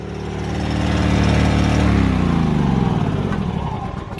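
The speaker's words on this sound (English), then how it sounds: "That generator has no issue at all." A portable 2,000-watt generator running a pancake air compressor gives a close, loud, chugging engine drone that swells and then settles as the load changes.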